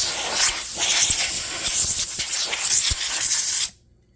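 A spray can hisses in a long continuous burst with a few small clicks and knocks, close and loud, then stops abruptly.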